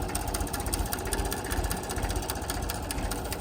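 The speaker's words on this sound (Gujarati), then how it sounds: "જો છે તો દાદા ટ્રેક્ટર હાંકશે." A tractor engine runs in a farm field with a steady, rhythmic throbbing idle, loud and close, continuous throughout without any talk.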